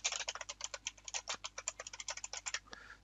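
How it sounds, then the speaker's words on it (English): A loud computer keyboard clatters with rapid, close-up keystrokes in uneven bursts of clicks and clacks, continuing with only brief pauses and no voices. "Sorry for the loud keyboard."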